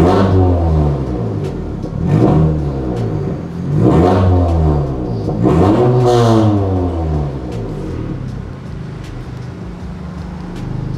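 A modified Honda Civic turbo hatchback with a twin-muffler exhaust and its valve closed revs repeatedly in loud, close throttle blips, each rising and falling sweep clearly audible with no talk.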